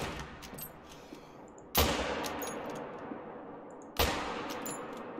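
Two sharp rifle shots ring out in the hunting video game theHunter: Call of the Wild, each a sudden loud crack trailing into a long fading echo across open terrain, about two seconds apart, with no speech.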